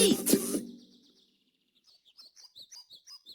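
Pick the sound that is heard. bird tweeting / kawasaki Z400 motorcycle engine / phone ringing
bird tweeting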